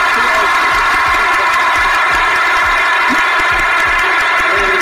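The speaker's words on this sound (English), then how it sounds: "let's make a clap for that" Loud, dense applause and cheering from a crowd at a live hip-hop culture show, a steady wash of clapping and shouts filling the room with no pauses.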